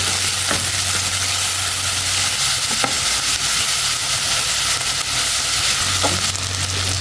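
Tomatoes cook down in a pan for a fish curry, giving a loud continuous sizzle and hiss close by. A few faint scrapes of stirring come through the dense frying noise.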